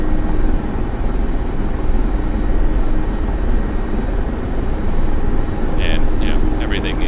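A Mi-24P helicopter in the DCS flight simulator drones with a steady, dense rotor and engine roar throughout, overlaid with someone talking.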